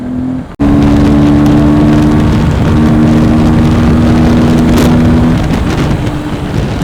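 A Honda CBR superbike on a group ride with a Kawasaki ZX10R, KTM 390 and Apache, its engine a loud, steady droning hum with strong wind rush after a brief dropout near the start, no voices.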